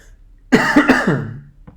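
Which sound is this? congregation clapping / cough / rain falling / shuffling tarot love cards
cough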